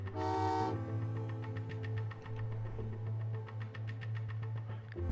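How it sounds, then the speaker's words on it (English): A train horn sounds as a train departs in the video game Train Valley 2, one short, loud tonal toot, followed by a steady engine hum and a quick, regular clicking rhythm that carries on to the end. "Sending the train out, I haven't built the track yet."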